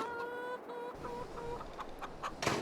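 Free-roaming desi hens on a farm in the Farming Simulator video game clucking, a series of short repeated clucks close by with a game-like clean tone, ending in a brief burst of noise, with no talk.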